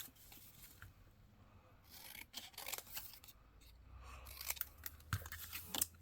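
Scissors snip quietly at close range, a series of faint, irregular crisp cuts and rustles that grow a little busier toward the end, with no talking.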